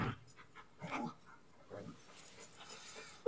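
A dog pants in quick, breathy bursts with a few soft whimpers mixed in, close by in a quiet dark outdoor setting.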